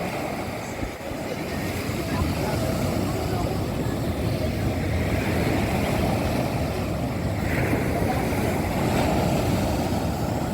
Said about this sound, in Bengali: খুবই উত্তাল সমুদ্র।